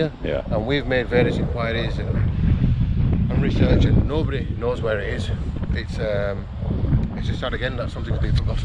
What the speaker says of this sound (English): Let's try, it's a windy day